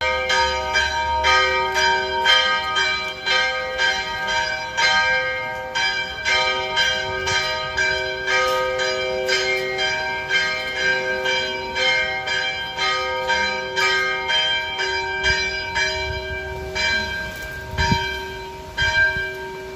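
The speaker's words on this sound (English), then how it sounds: "Like the Islamic call to prayer, church bells serve a similar purpose." Church bells in Palermo, Sicily peal steadily for the whole stretch, a loud, ringing run of repeated strikes with overlapping resonant tones and no talking.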